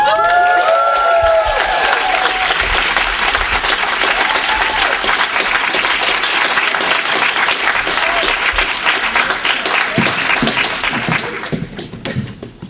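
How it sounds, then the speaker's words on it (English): A large convention crowd at a fan Q&A applauds and cheers for arriving guests, loud and continuous with a few whoops, tapering off near the end. "if you give them a bigger round of applause to let them know that they can come in"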